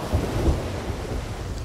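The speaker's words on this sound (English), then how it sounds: "Storm to the left of us." Thunderstorm at sea in the video game Sea of Thieves, a low thunder rumble with a couple of deep thuds over steady rain and wind noise, no speech.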